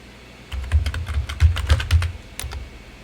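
Computer keyboard typing of terminal commands: a quick burst of close, crisp key clicks, about a dozen irregular taps over two seconds, with no talk.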